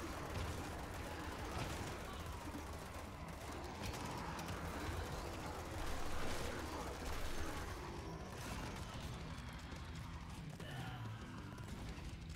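Rapid gunfire from dual-wielded akimbo guns in the retro shooter Project Warlock II, a dense continuous burst of shots over loud game music, sustained and near throughout.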